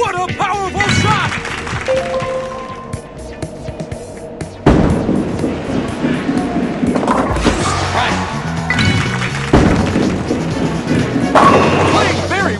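Bowling balls strike pins at a competitive bowling event in a series of strikes, with loud crashing impacts near 5 and 9.5 seconds over a busy bed of alley noise and faint voices.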